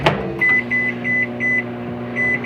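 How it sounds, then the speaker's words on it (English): A low-wattage microwave oven runs steadily while heating about two cups of plastic, giving a continuous hum with a repeating high beep-like tone pulsing roughly every half second. Nobody speaks. "This is a lower wattage microwave, so it shouldn't be too bad."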